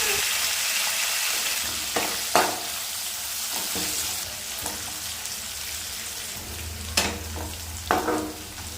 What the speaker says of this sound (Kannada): ಇದಕ್ಕೇನೆ ಕಟ್ ಮಾಡಿ ಇಟ್ಕೊಂಡಿರುವಂತಹ ಈರುಳ್ಳಿನ ಹಾಕೊಂಡು ಫ್ರೈ ಮಾಡ್ಕೊಳ್ಳೋಣ